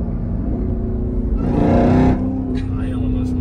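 A Jeep Trackhawk engine drones and swells into a brief rev while racing an Audi, heard from inside the car, with a faint whine after it eases off and people talking over it.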